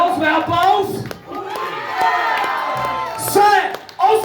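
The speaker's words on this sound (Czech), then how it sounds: "Se ozve aplaus." A crowd at a 2024 live event in Blížejov cheers and shouts loudly, with whoops and youthful yells rising and falling over a few seconds, and a burst of clapping and cheering near the end.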